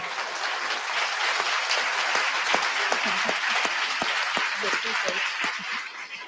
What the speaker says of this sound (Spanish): se merece un aplauso, por favor